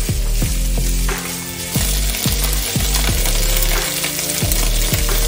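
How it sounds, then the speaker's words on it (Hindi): Minced meat (keema) frying hard on a high flame, with a loud, steady sizzle broken by repeated metallic clangs of a spoon or spatula against the pan. "लेकिन आप फ्लेम को हाई रखिएगा ताकि कीमा आपका क्रिस्पी हो।"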